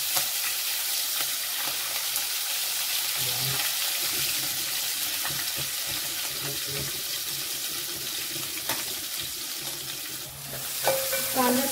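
Onions sautéing in a pan for a Maharashtrian shev kanda bhaji with curry leaves, asafoetida and chilli, a steady close sizzle with spoon stirring and scraping, a few soft clatters and some running-water hiss.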